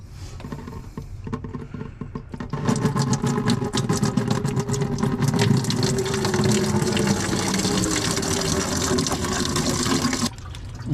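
Coolant gushes and pours steadily from a pulled radiator hose on a K24A2 engine out of a KRX, starting with scattered drips and clatter, then a loud continuous splashing stream that runs for several seconds before tapering off.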